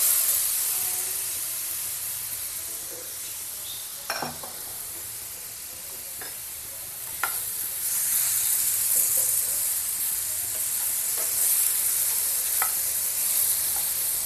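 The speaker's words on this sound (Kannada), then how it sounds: "ಆ್ಯಡ್ ಮಾಡಿಕೊಂಡು ಸ್ವಲ್ಪ ಫ್ರೈ ಮಾಡ್ಕೊತೀನಿ. ಸೊ ಪ್ರಾನ್ಸ್ನ ಪೂರ್ತಿ ಇದಕ್ಕೆ ಹಾಕೋತಾ ಇದ್ದೀನಿ." Marinated prawns sizzle steadily in a hot pan for a garlic prawn fry, a continuous bright frying hiss with a few sharp spatula scrapes and clinks scattered through; no one speaks.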